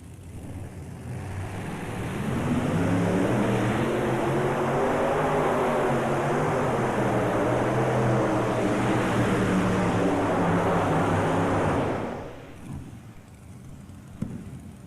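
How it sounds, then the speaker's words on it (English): An Allison aircraft engine runs at a steady roar at the National Farm Machinery Show, building up over a couple of seconds, holding a loud, even drone, then cutting off abruptly near the end. "We'll have our first Allison aircraft engine coming your way here in just a minute."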